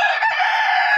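A gamefowl rooster gives one loud, close crow that stretches across the whole moment, strained and sustained.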